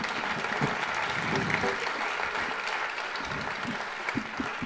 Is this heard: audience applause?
yes